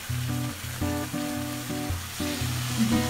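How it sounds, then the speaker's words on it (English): Broccoli stir-fried over low heat in a pan with mushrooms and browned garlic, a moderate steady sizzle running under prominent rhythmic background music. "para lang natin siyang stir fry."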